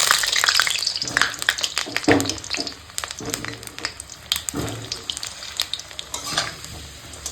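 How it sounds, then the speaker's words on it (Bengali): Potatoes fry in hot oil in a kadai with a crackling sizzle, punctuated by bursts and clattery stirring strokes against the pan, close and fairly loud. "এখন কড়াতে দিয়ে দিয়েছি তেল তো আমি আলুগুলোকে ভেজে নেবো"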